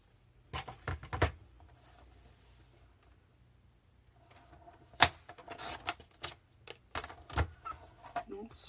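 A 2 cm strip of paper is cut for a handmade mini album, producing sparse, sharp snips and paper rustles up close, separated by quiet stretches.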